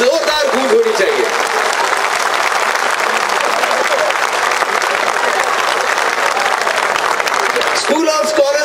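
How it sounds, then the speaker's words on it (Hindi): A large outdoor crowd at a world record event, including some 1,200 schoolchildren on a field, claps loudly in sustained dense applause, with a voice speaking briefly at the start and again near the end. "एक बार दिल खोल के बच्चों के लिए तालियां बजा दें।"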